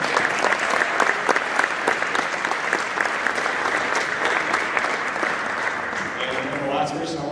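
Sustained audience applause at a college men's basketball event fills the space, dense and steady throughout with scattered cheers and crowd voices mixed in, loud and near.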